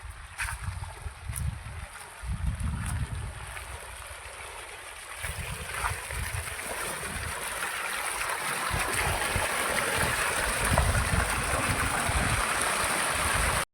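Water gushes into a farm spray pump tank during wheat field work, a steady rushing, splashing flow that grows gradually louder and fuller as the tank fills, with no talking.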